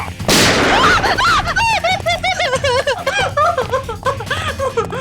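One sharp, loud gunshot rings out near the start of a TV crime drama scene, followed by a stretch of warbling, chirping tones.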